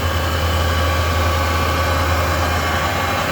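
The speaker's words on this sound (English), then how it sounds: "1500 RPM, very quiet." A Harrison M390 geared head gap bed engine lathe spins at 1500 RPM with the feed stopped, giving a smooth, constant low drone and steady hum, close and even throughout with no voices.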